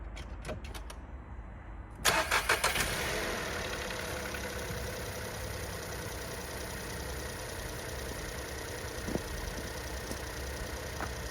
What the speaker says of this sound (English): I'm gonna turn the ignition on and make sure those daytime running lights are working